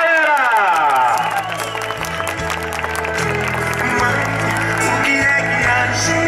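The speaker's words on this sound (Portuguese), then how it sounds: "uma salva de palmas pra Maria José, galera!" Audience applause and cheering at a tribute event in a neighbourhood, loud crowd cheers and whoops over steady music with a pulsing bass line throughout.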